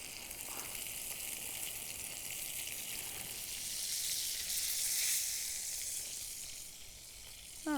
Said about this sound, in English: we will start hearing the sound of searing now